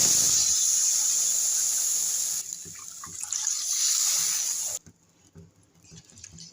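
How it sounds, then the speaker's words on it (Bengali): Water poured into a frying pan of turmeric-fried fish for a curry broth, a steady hissing trickle that continues for a few seconds, then drops off abruptly to quieter sizzling and faint clatter. "ঝোলের জন্য জল দিয়ে দিচ্ছি।"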